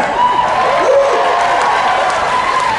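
Loud, dense applause and cheering from a large audience at a Disney Parks panel at the D23 Expo, steady and close throughout, with a faint voice partly underneath.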